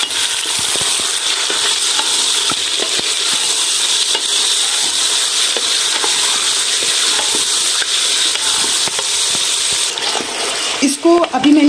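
Mutton pieces fry with garlic and ginger in a pot along with cardamom, black peppercorns and cloves, giving a steady loud sizzle with scattered stirring scrapes throughout and a few sharper clinks near the end.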